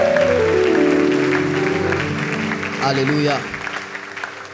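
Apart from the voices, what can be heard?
congregation applauding to acclaim the Lord in church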